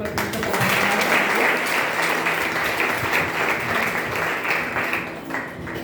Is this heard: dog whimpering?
no